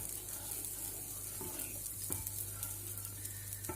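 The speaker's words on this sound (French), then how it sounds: "ici nous avons la préparation de polenta qui cuit" Polenta cooking in a pan gives a steady, soft bubbling sizzle with occasional faint stirring scrapes and clicks, fairly quiet and continuous with no voices.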